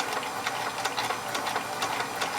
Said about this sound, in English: just have a hard time letting go when their bobbin's winding.